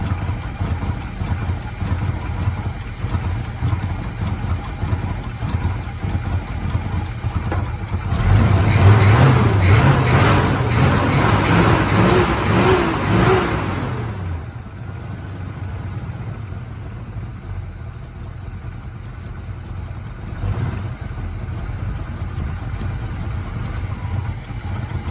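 A 1979 Chevy engine idling steadily for the whole stretch, with a louder, rougher patch partway through before it settles back to a low, even idle.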